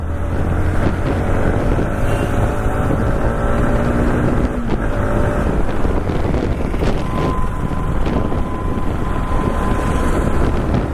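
Modified Yamaha MT-15 motorcycle on a test ride, its engine drone rising and falling under heavy, continuous wind buffeting against the microphone, loud and steady throughout with no talking.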